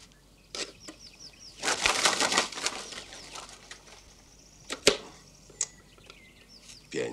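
Pigeon handled by children, wings flapping in bursts with scattered knocks and rustles, a few soft coos at moderate distance, no talk.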